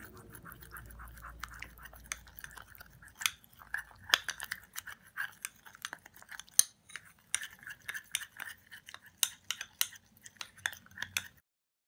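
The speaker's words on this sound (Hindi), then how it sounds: "इन सब चीज़ों को हम मिक्स करेंगे।" Amla and honey are stirred into a face paste in a small bowl. A spoon scrapes and clinks in quiet, irregular taps that grow busier as the stirring goes on, close by and faint, with no speech.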